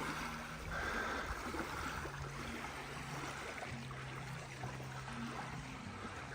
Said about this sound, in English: That wonderful sound, the sound of waves just lapping up.